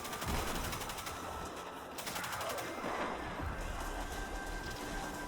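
Enemies firing guns in the shooter game Destiny 2, a dense continuous rattle of rapid automatic gunfire under a busy, steady game mix without talk.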